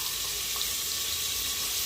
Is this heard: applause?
no